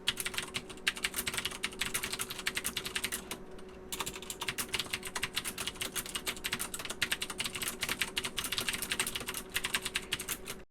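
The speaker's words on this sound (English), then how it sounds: "Here's an audio sample of me using this keyboard to type the script for this review" Continuous typing on a Logitech G610 Orion keyboard with Cherry MX Blue switches: a dense, steady stream of sharp clicky keystrokes, close and loud, with one brief pause near the fourth second.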